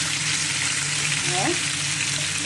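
Onion and bell pepper sizzle steadily in hot fat in a pan for goulash, a close, continuous broadband frying hiss with a brief stirring or tossing sound midway.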